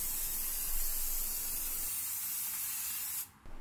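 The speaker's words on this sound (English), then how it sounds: "spray on a few coats with at least 10 minutes between coats" Clear coat paint sprays from an aerosol can onto a car's brake caliper, a steady close hiss held for about three seconds before cutting off abruptly near the end.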